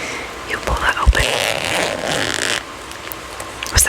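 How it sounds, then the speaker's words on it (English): A purse zipper is pulled open in a few short rasping strokes close up, with soft handling noises around them and a quiet pause. "This is the zipper side. See how it has like a zipper right here? You pull that open."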